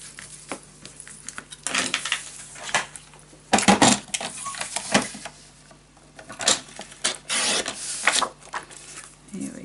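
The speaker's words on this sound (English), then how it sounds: "Burnish everything down." Paper folds for a scrapbook mini album burnished flat with a tool, giving close, scattered rubbing and scraping strokes in uneven bursts with short pauses between them.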